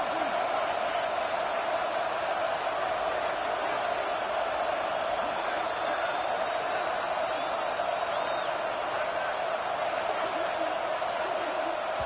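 A stadium crowd at a college football game keeps up a steady, distant roar, loud and unbroken throughout, with a commentator talking over it.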